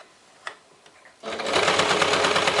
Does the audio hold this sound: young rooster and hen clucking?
no